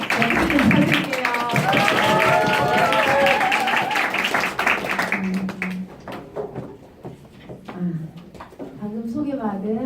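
An audience greets an invited lecture speaker with applause, a broadband patter of many hands under a speaking voice at first, then thinning into scattered claps and quieter moments before talk resumes.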